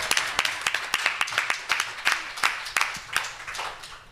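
Audience applause after a presentation, a steady wash of many hands clapping at moderate distance, with sharper individual claps standing out throughout and no talking.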